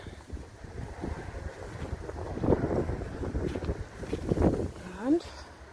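Wind gusting around an allotment greenhouse, a steady rushing buffet against the microphone with swelling gusts and brief louder peaks, heard close and continuous throughout.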